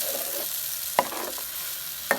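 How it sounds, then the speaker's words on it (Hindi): A spoon stirs and scrapes egg halwa in a pan over a low flame, a soft steady rasp broken by two sharp clicks of metal against the pan. The sound is close and quiet, with no talking. "चम्मच आपने मुसलसल हिलाते रहना है।"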